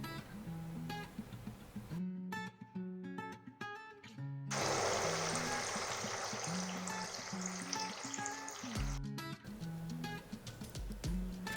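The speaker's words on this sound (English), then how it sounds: "Fry the cutlets till they become brown and crispy from both the sides." Buckwheat cutlets (kuttu ki tikki) sizzle in a pan of hot oil, a steady broadband hiss that swells loudest in the middle, with light utensil clinks and taps scattered over it and faint background tones.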